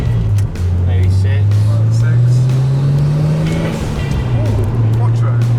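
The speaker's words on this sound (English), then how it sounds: "And then the RB25 sound as well, the massive exhaust, the flames." An RB25-engined car with a massive exhaust drones loudly and steadily, its low engine note rising and falling as it revs, with people talking over it.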